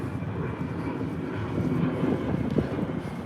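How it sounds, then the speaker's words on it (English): A big airplane flies high overhead above the clouds, unseen, giving a steady, broad rumbling roar that swells slightly, heard outdoors in Washington DC with wind on the microphone. "Another big plane coming overhead."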